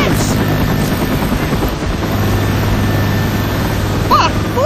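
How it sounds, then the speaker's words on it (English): A helicopter in Left 4 Dead drones steadily with loud, continuous rotor thrum and engine hum, holding level throughout with faint higher chirps near the end. "We're gonna jump into a chopper."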